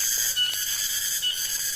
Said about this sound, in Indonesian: Nah ini suara tonggeret.